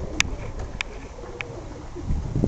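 Pigeons in a loft coo softly, with a few short repeated calls standing out above a low background rumble and faint shuffling, fairly close.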